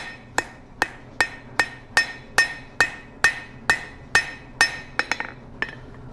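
A blacksmith's hammer strikes hot steel on an anvil, flattening a taper for a J hook: about fifteen sharp ringing blows in a steady rhythm, close and loud, with a quick double tap near the end.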